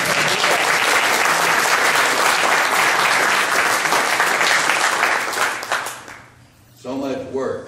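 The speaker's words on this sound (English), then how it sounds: "we need to recognize her and give her applause again, Carol Brinsfield." Loud, sustained applause from an audience at a 50th class reunion of the Class of 1964, dense steady clapping that fades out near the end before a voice begins speaking.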